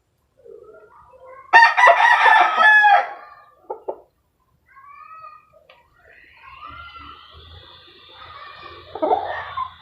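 A gray gamefowl rooster crows loudly nearby with one full crow, followed by quieter clucks and bird sounds in an otherwise quiet setting.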